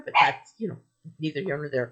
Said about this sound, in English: Apologize for my dog